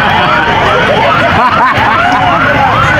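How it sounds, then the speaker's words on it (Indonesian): A loud, repeating warbling electronic alarm, rising and falling in quick sweeps, with faint voices murmuring underneath. "Rupanya bukan ambulan, remote mobil orang terpencet."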